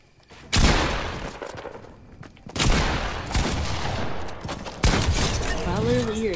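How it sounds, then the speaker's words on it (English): Rapid bursts of gunfire and fusillades from a Fortnite duos match come loud and close in several dense volleys, with short gaps between them. "If I literally hear gunshots"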